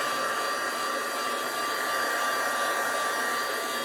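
A hair dryer blowing to dry a painting, a steady, close, whining hiss of airflow that holds constant throughout with no talking.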